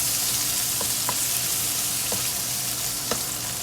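Shrimp hitting a hot pan of frying bitter gourd gives a steady, close sizzle with a few soft clicks of stirring, no voices over it.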